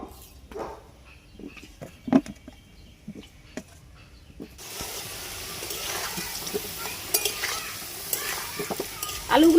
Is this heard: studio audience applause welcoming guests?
no